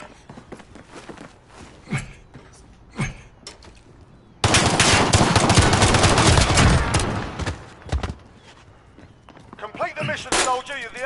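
Pistol fire in a first-person shooter video game comes as a close, loud rapid burst of shots, with scattered single shots and footsteps around it.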